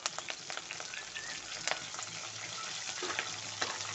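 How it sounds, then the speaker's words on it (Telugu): Curry leaves splutter in hot oil in a pan while cooking a drumstick and tomato curry, making a steady close hiss of frying with frequent sharp pops, and no one talks. "కర్రీ వండితే ఇలా చిట్టుతుంది కదా ఫ్రెండ్స్, నాకైతే ఫుల్ భయం అవుతుంది"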